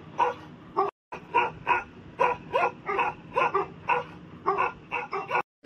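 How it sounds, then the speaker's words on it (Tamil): Cartoon dogs in a village scene bark and whine in a rapid, repeated series of close, loud yips and whimpers, with short pauses between bursts and no talking. "அங்க பாரு, நாயெல்லாம் என்னன்னு குழைச்சிட்டு டக்குன்னு பாரு."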